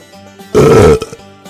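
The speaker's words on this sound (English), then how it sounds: "That wasn't a very good burp, was it?" A loud, drawn-out belch, deliberately forced up to top a weaker attempt, rumbling for about half a second on its own before a couple of brief gulping sounds and quiet background tones.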